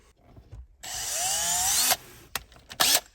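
A power drill enlarging a pre-drilled hole in the pedal area of a Porsche Cayman S 987 whines steadily for about a second, close by, then stops, followed by a couple of short bursts.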